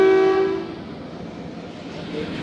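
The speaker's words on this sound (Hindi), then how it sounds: "1 मिनट स्टॉप के बाद दोस्तों गोलड़ा शरीफ रेलवे स्टेशन से ट्रेन रवाना हो गई" Thal Express passenger train pulling out of Golra Sharif railway station in Pakistan: a loud horn blast opens, then fades into steady rolling wheel and carriage rumble close by.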